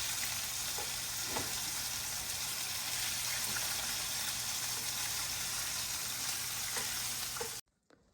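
Deer backstrap pieces fry in shallow grease with a steady, loud broadband sizzle and faint scattered pops, cutting off abruptly near the end.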